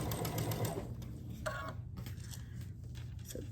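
A sewing machine chain piecing quilt fabric at a quarter-inch seam, a quiet rapid mechanical whir of stitching that runs throughout with small pauses and clicks, close and alone.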